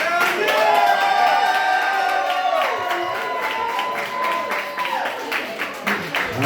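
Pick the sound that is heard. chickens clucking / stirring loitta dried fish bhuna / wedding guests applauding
wedding guests applauding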